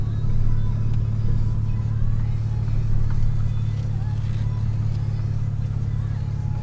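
A 2003 Mitsubishi Eclipse GTS V6 on a short test drive: a constant, fairly loud low engine drone and road hum from inside the car, steady throughout with no speech.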